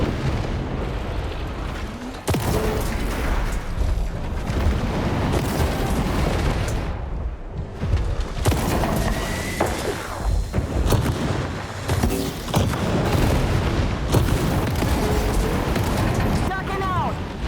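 Rapid missile barrages launching and bursting in War Robots Frontiers, dense booms and blasts layered continuously throughout, loud and close, with someone talking over the combat.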